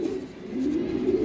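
Racing pigeons of Belgian bloodline coo close by, a soft continuous throaty warble rolling steadily through the whole short moment with no other sounds.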